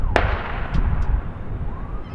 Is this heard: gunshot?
yes